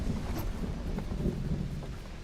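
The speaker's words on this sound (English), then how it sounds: "Oh, it's storming here too." A video game thunderstorm, with a museum in the scene: a steady low rumble of thunder and rain washes through the whole stretch at moderate level, with no voices over it.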